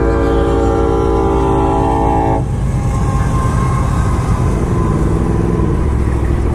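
A loud, sustained train horn blares for a couple of seconds, then gives way to the heavy rumble and clatter of the passing train, close and continuous.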